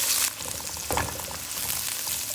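Sliced onions frying in hot oil with cardamom and cumin for biryani masala, a dense continuous sizzle close by with one brief louder scrape or clatter partway through.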